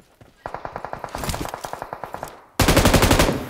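In PUBG Mobile, a rapid string of close gunshots starts after a brief pause and runs steadily, then cuts to a louder, denser volley of automatic fire.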